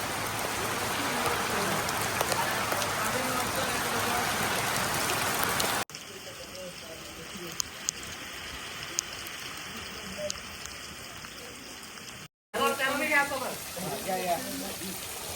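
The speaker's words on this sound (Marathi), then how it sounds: "पाहू शकता किती सुंदर असा पाऊस पडतोय" Steady rain pours down in a dense, even hiss, interrupted by a brief cut midway, with faint voices at times.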